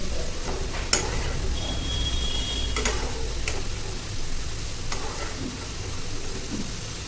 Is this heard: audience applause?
no